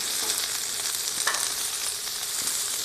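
Steak sizzling on a backyard grill, a steady dense hiss of frying fat with small pops, close and continuous with no talking.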